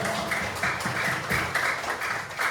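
Fourth-grade children applaud in an elementary school classroom, with quick rhythmic claps close by that run steadily through a short burst.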